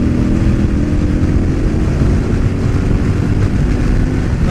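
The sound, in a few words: KTM 1190 motorcycle accelerating in sixth gear roll-on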